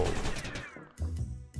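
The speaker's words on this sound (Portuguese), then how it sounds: "Pistola de fogos de artifício." Several sharp bursts of flare gun fire in the game Zombie Soup, a loud blast followed by a whistling trail, then two more quick booming shots.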